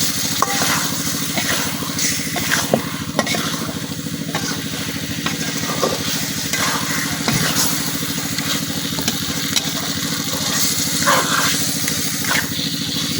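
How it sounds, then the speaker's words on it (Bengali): Chicken meat frying with spice paste in an oil-filled pan in a village kitchen, a steady dense sizzle broken by occasional scraping knocks of stirring, with a constant low hum beneath. "এখন মাংসের সাথে মশলাটা খুব ভালোভাবে মিশাই নিলাম"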